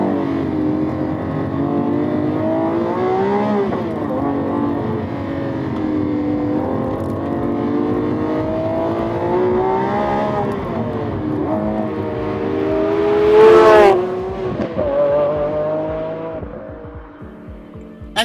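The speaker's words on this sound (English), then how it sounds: "that's when the thing just lights up and woofs around to 8500 RPM, which is the red line" A 2022 Lamborghini Aventador LP780-4 Ultimae's V12 revs hard toward its 8500 RPM red line on roads in the Brecon Beacons, loud and close, with rising sweeps, a peak near the end and a sharp cut-off.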